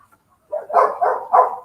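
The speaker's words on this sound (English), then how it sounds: "the dogs are all barking on the street now, so Sally thinks she needs to bark too" A dog barks three times in quick succession after a brief silence, loud and close, while dogs outside on the street are also barking.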